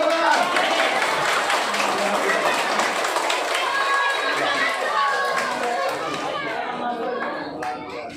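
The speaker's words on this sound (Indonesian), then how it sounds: "Tepuk tangan." A crowd of schoolchildren and adults claps at a primary school Christmas celebration, a dense wash of clapping blended with lively chatter and children's voices that thins out toward the end.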